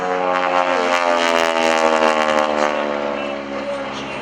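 Loud, steady Stearman biplane engine drone with a rising and falling pitch as it performs aerobatics at an airshow, close and continuous throughout.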